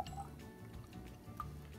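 Homemade elderberry syrup pours from a jar into a mason jar, a faint trickling, dripping liquid sound with a few brighter drips, soft and close.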